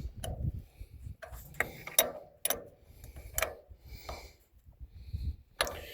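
A ratchet tightens the negative battery cable terminal on a car, giving several close, bursty runs of sharp metallic clicks with short pauses between them; no one speaks.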